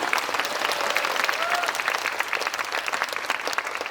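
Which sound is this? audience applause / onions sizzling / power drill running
audience applause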